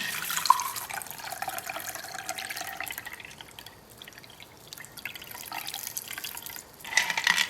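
Apple cider spiced margarita strained from a cocktail shaker into a glass, a steady close trickle and splash of liquid pouring for several seconds, swelling briefly near the end.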